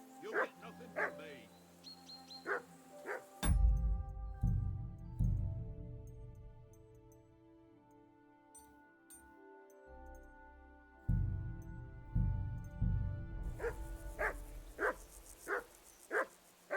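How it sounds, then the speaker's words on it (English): A dog barks in the medieval video game Kingdom Come: Deliverance II, sharp repeated barks at the start and again near the end, between stretches of sustained game music and a short spoken line. "I assume you can hear that damn dog of yours barking."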